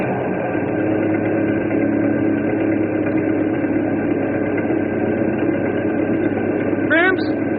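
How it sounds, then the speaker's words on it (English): An old ferry boat engine runs steadily at a constant low drone, loud and continuous throughout, with a brief squeaky sound near the end. "I'll crank up this old engine and we'll cross over and pick them up."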